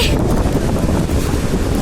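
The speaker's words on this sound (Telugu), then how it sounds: "ఇంకొన్ని వాటర్ ఫాల్స్ ఇదిగోండి." A dense, constant rushing roar of falling water at Niagara Falls, loud and close, with wind-like buffeting throughout.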